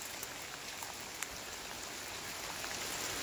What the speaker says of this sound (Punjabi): ਗੁਰੂ ਅਰਸਾਏ ਸਾਹਿਬ ਬਾਰਿਸ਼ ਹੋ ਰਹੀ ਹੈ ਫੁੱਲ ਰੇਨ